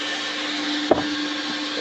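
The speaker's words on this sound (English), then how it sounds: "Everybody out here vacuuming their vehicles." Vacuum cleaners run nearby at a car wash lot where people clean their vehicles, a steady loud droning whir with a brief knock in the middle.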